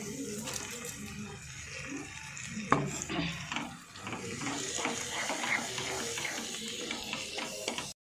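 Steady, close sizzling and crackling of green chillies frying in a hot pan, with occasional stirring scrapes and a voice talking over it.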